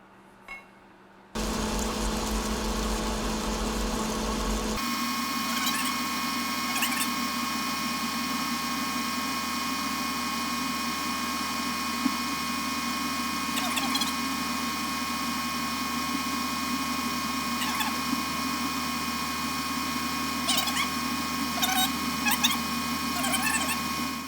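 A metal lathe cuts a 1045 steel bushing under power feed, a steady loud mechanical drone with sustained tonal whine and occasional small ticks and chirps, running continuously after an abrupt start.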